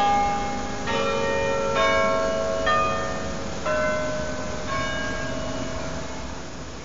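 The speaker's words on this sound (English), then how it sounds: "Southampton's nearby tower daily sounds out the tune of his most famous song" Tower bells in Southampton ring out the hymn tune O God, Our Help in Ages Past, a slow sequence of single clear strikes spaced about a second apart with long ringing decay, heard from a moderate distance.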